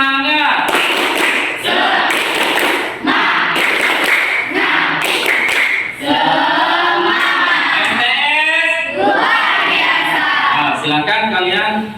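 A classroom of children performs a rhythmic group clap, repeated bursts of claps and taps mixed with loud chanting and shouting voices throughout.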